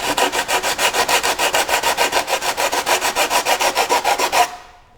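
Rhythmic back-and-forth sanding on the fiberglass hull of a racing shell, about twenty even strokes in quick steady succession, close and loud, stopping abruptly near the end.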